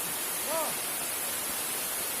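A waterfall at Putri Pintu in Bener Meriah, a hidden natural spot, gives off a steady, unbroken broadband roar of falling water that fills the whole clip at an even level.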